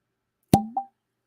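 A cork pops out of a bottle of Deanston Virgin Oak whisky, one sharp close plop followed by a softer second pop, then silence.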